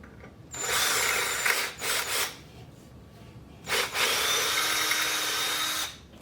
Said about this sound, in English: I'll have to drill out this throttle body just a little bit